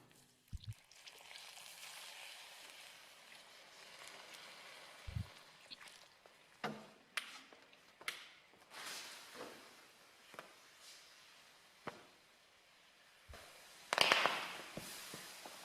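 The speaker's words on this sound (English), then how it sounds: "So you can see the explosion here." Slaked lime reacting in water gives scattered small pops and crackles, sharp brief bursts spaced irregularly, with a louder cluster near the end, faint and with no talking.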